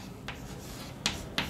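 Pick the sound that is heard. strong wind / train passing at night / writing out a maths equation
writing out a maths equation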